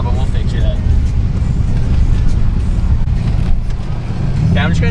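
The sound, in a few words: Nissan 300zx engine with leaky clamped exhaust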